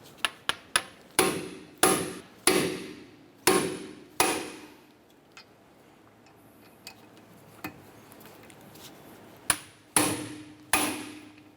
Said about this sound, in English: We're going to use our impact driver. I'm going to go ahead and loosen this here.